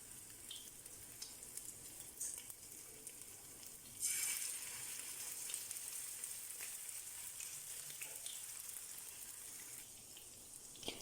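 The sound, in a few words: chicken cutlets frying in pan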